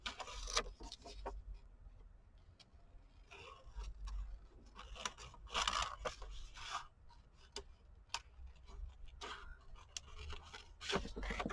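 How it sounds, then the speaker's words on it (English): Scissors fussy-cut around paper embellishments for a journal, giving soft, close, irregular snips and rustles of paper handled on a desk, all quiet and with no talking. "do a kind of a semi-fussy cut down here"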